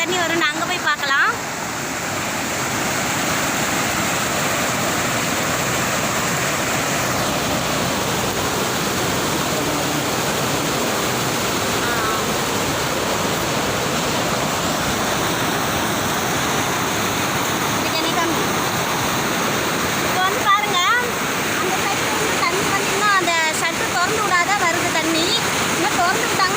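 Water rushes loudly and steadily over the Tholudur anicut, a river dam, in a broad continuous roar that lasts throughout, with a voice speaking over it at times.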